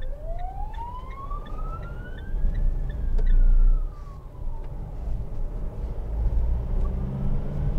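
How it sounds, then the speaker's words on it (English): An ambulance siren wails upward and then falls away as it drives past, loud at first and fading, with road rumble underneath, heard from a 2014 Mitsubishi L200 pickup. "it's an ambulance."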